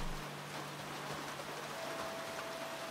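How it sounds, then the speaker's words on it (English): Steady video-game rain patters continuously across the whole stretch, a dense hiss of drops with a faint low hum underneath and no voices. "It is raining. I don't need to water these."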